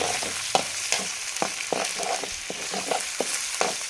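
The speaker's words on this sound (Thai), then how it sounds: "นี่เพิ่นทอดให้กรอบก่อนจ้ะทอดทอดปลาให้กรอบก่อน" Eel pieces deep-frying in hot oil until crispy, a dense, steady sizzle broken by frequent clacks and scrapes of a utensil stirring in the pan, close and without talk.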